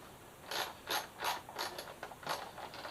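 Ratchet driving a 10 mm bolt to tighten down the air box on a Suzuki GSX-S 1000F during a rebuild, heard as several short bursts of quick, close metallic clicking separated by brief pauses.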